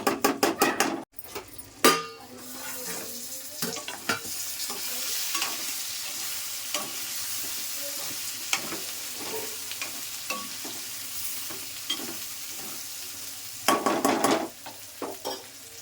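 Brinjals (eggplant) cook in oil in a pan for a curd curry, giving a continuous close sizzle broken by frequent utensil scrapes and taps from stirring.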